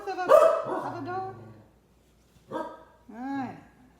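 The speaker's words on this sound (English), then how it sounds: "That's a crazy dog." A dog barks loudly and close by in a few sharp bursts separated by pauses, with a whining, yelping quality.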